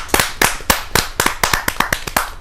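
Audience claps at a Hindi poetry gathering (kavi sammelan), about a dozen sharp, distinct claps spaced fairly regularly, close and loud, with no talking over them.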